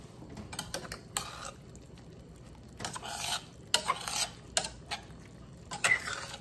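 A cornstarch slurry is stirred into a simmering moo goo gai pan stir fry with peas and carrots, with soft sizzling under intermittent scraping strokes of a utensil against the pan.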